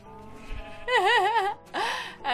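Minecraft sheep give two wavering bleats, loud and close, the first longer and the second shorter after a brief gap.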